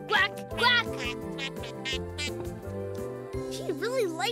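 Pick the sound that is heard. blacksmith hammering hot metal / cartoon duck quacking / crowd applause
cartoon duck quacking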